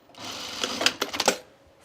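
A sewing machine runs in a brief, close burst while stitching a Renee dress, with quick rattling stitch clicks and a faint whir.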